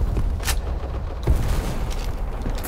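Gunfire in the first-person shooter video game Black Squad, a few sharp shots popping over a dense, continuous game-noise bed.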